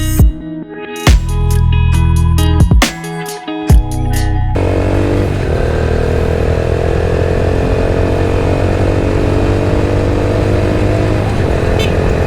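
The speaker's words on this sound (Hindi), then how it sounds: "वैसे रेव किया है, बड़ा ज़बरदस्त तरीके से किया।" A motorcycle engine revs hard in several sharp, loud bursts up close, then settles into a steady, continuous running drone for the rest of the clip.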